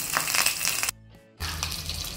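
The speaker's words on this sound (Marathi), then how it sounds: "तर अशा प्रकारे पाणी ओतायचं आपण." Water is poured into a hot tempering pan while making dhokla, producing a loud, close rushing hiss that breaks off for a brief moment, then resumes just as strongly.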